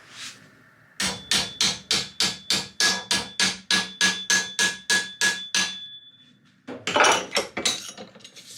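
Rapid, evenly spaced metallic hammer blows on sheet metal, shaped by hand for Austin 7 hinge sections, about a dozen ringing strikes in a row, a pause, then a final burst of tapping.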